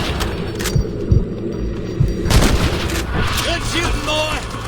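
Gunfire in the Red Dead Redemption video game, a few sharp shots cracking out amid a busy mix of game sound and background voices.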